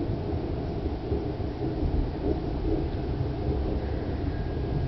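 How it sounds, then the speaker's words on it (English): Low, continuous rumbling thunder from a lightning storm rolls on steadily with no distinct cracks, sounding distant and muffled. "here's the thunder."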